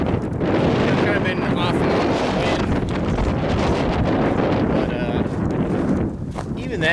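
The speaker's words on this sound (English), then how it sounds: "Right now this breeziness is just kind of a little cooler, but not too bad." Wind buffets the microphone on a shoreline hike at Deep Creek Lake, a loud, continuous rumbling gust that runs under someone speaking throughout.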